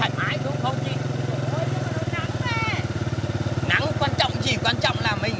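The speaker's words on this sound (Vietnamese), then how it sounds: "Đi xe ôm, xe máy." A motorbike taxi engine hums steadily while riding, its constant drone running under continuous conversation in Vietnamese, with chirpy background sounds layered on top.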